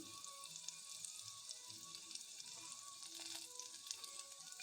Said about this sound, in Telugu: ఇవి ఇలా మంచిగా తడతడ అనాలి, ఫ్రై కావాలి